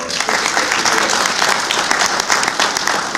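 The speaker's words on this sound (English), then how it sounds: "Please give them a round of applause." Audience applause at a morning community gathering honoring coaches and an athletic director from Fort Valley: a loud, dense wash of many hands clapping steadily throughout, close and sustained with no pause.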